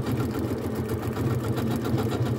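Janome sewing machine stitching a flowery decorative stitch onto ribbon with a ribbon guide attachment, a steady rapid mechanical whir with a fast even pulse, close and continuous.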